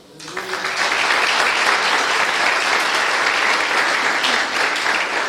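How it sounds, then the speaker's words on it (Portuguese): A church congregation breaks into applause, swelling within the first half second into a loud, dense, sustained clapping that holds steady to the end, with no talk over it. "Pode aplaudir o Senhor?"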